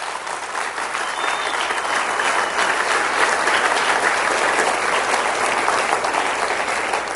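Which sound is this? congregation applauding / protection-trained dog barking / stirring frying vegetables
congregation applauding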